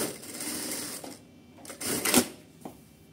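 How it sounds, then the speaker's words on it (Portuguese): A Sun Special electronic straight-stitch industrial sewing machine runs in short bursts, with a rapid whirring stitch, a brief pause, then a louder burst and a sharp clack near the end, all close up. "Se eu fazer um processo rápido, eu só acelero novamente, embaixo e já começa a costurar."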